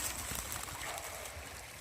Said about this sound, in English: Trying to find the end of the Birkhead Mountain Trail and came across this creek.